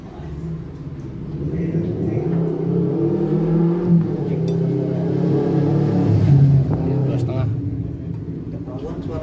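A Kawasaki Ninja RR motorcycle engine revs repeatedly through a cheap exhaust, its raspy note rising and falling in pitch, fairly loud and close, with a rough, buzzy tone.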